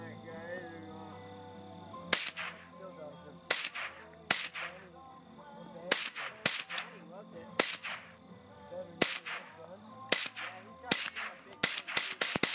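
Gunshots ring out during outdoor target shooting, a dozen or so loud sharp cracks in an irregular series, some in quick pairs, with faint voices and background noise between shots.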